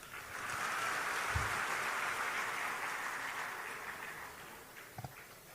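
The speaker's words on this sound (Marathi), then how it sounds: "जरा जोरात टाळ्या वाजवा." Applause from the audience at a speech swells into a steady, fairly distant wash of clapping and then gradually fades, with a couple of louder individual claps near the end.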